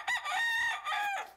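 A rooster crows loudly and clearly in a long, drawn-out cock-a-doodle-doo, heard up close and alone, with no voices.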